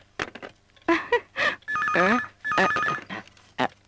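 A telephone rings in an indoor scene from a South Indian action film dubbed into Hindi, giving repeated warbling electronic trills in two bursts, with people talking between and around the rings.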